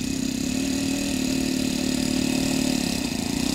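A model Extra airplane's engine idles with its throttle trim turned down, giving a steady, even buzzing drone at moderate level with no voices.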